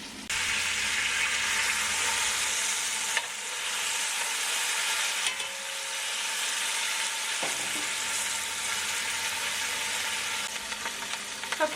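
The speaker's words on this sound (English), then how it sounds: "flip over the meat, and let it sear on the other side" Pot roast meat searing in a hot pan gives a steady, loud, close sizzle and crackle that holds through the clip, with a couple of soft clunks.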